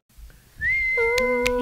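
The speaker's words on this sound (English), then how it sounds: "Who's whistling?" Someone whistles a steady high note that slides up, then splits into a sustained tone with two short sharp accents, loud and close with no talking.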